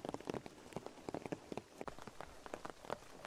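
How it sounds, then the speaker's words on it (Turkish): Hail and heavy rain patter densely on a surface at a rainy cliffside campsite, with steady irregular ticks and thumps and no talk. "Dolu başladı."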